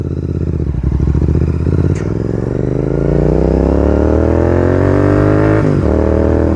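GT 650 motorcycle fitted with a Red Rooster exhaust revving up close, a loud throbbing idle climbing into a long rising rev, then dropping sharply at the end.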